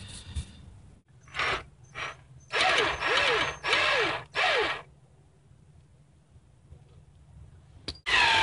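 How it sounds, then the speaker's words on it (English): A tool works loose the driveshaft bolts on a 1989 Jeep Cherokee in several loud mechanical bursts of a second or less. Quiet gaps follow, then one more short burst at the end, with no one talking. "So I'm gonna remove the bolts so that I can do this outside of the vehicle"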